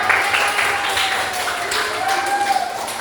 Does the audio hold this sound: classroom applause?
yes